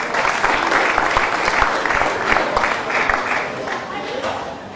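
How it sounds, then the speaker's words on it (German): An audience at a charity auction marking a children's organisation's tenth anniversary gives steady, dense applause throughout, loud and full, with a voice talking over it. "Dankeschön, dein Applaus"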